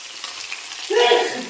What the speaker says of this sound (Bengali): সবার প্রথমে ট্যাংরা মাছগুলো ভালো করে ভেজে নিচ্ছি।